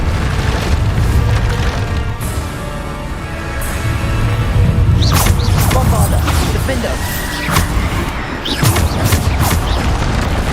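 Bombarda spell explosions in Hogwarts Legacy combat: a loud, continuous roar of booms with sharp splintering cracks bursting through at intervals, and voices partly audible under the din.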